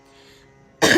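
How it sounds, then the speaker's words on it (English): A woman gives a single short, harsh cough, close and sudden after near silence, with no talk around it. "I still have a little bit of this residual cough."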